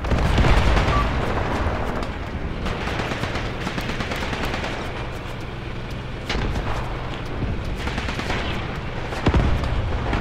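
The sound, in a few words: grenade explosions and gunfire from video game Graviteam Tactics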